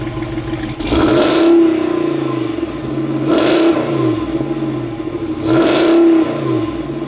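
A Ram truck with the 6.4 Hemi engine revs three times in a deep, rumbling pattern, each throttle blip rising and falling over a steady idle nearby.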